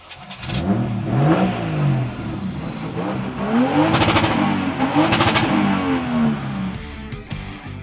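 An American muscle car engine turns over and roars to life, then revs hard several times with rising and falling throaty sweeps, loud and close, with no voices.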